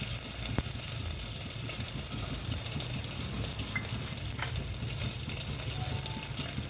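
Cumin seeds sizzling in hot ghee for jeera rice, a steady, dense hiss and crackle that holds evenly throughout, close and without speech.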